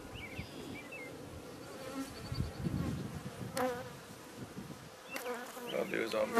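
Honey bees buzz around an open hive during a hive inspection, a faint steady hum close by, with soft handling noises and a few brief clicks.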